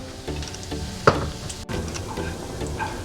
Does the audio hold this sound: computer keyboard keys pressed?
no